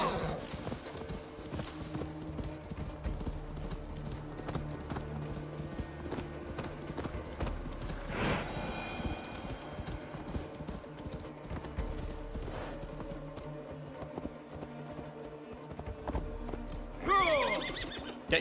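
Galloping horse hooves clip-clop steadily in the Assassin's Creed Valhalla video game over game ambience, with a sharp whinny near the end.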